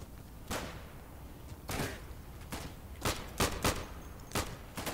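Gunshots crack in the World War II shooter Day of Infamy in multiplayer combat. Scattered single shots and quick pairs ring out at irregular intervals, moderately loud against a low ambient hum.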